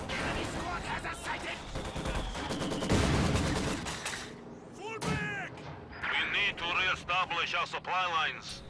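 MG42 machine gun fire in a strategy video game, now with a slower rate of fire, rapid bursts of gunfire in a battle mix under steady commentary voice and other combat sounds.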